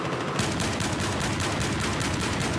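Rapid, continuous gunfire from a first-person shooter, a player spraying shots at a wall, steady loud bursts running throughout with no pause and no talking.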